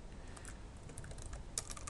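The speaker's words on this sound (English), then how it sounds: "And we type in this one. And we hit space." Quiet, steady typing on a computer keyboard with a space bar tap, clicks running continuously and evenly up close, alone without voices.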